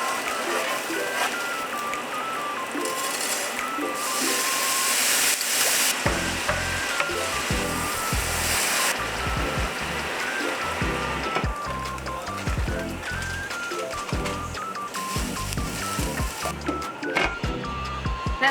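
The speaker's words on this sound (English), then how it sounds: "it's just cooking in some olive oil. I'm gonna sear each side for about 5 minutes" Food searing in olive oil seasoned with chili and garlic powder gives a steady, close sizzle and crackle that runs throughout, with a brief hiss of steam near the start and light clatter partway through.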